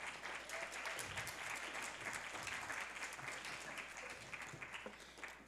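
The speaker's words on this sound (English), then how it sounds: "I guess you can clap now" Audience at an Albuquerque mayoral candidate forum applauds as a candidate comes to the stage, a continuous, fairly distant crowd clapping that stays even and then tapers slightly, with faint low murmurs beneath.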